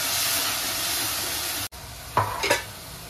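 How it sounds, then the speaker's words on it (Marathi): Ginger, garlic, green chili and coriander paste sautéing in hot oil for a Marathi mutton kheema, a loud steady sizzle that cuts off briefly, followed by quieter frying with a couple of stirring scrapes. "आता हे सगळं व्यवस्थित तेल सुटेपर्यंत परतून घे"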